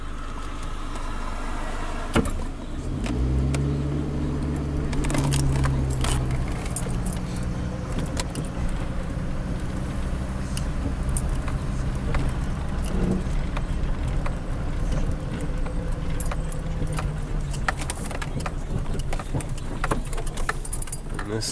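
Cars pass along a rural road near a hayfield, a vehicle approaching and rumbling by close at hand with a steady hum of motion, joined by a sharp jangling of keys early on.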